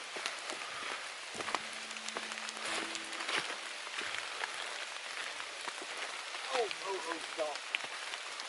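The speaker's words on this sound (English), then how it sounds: "Forecast was calling for rain now." Steady rain patters on a surface throughout on a Pine Mountain backpacking trail, with brief speech and a few chirpy bird-like sounds near the end.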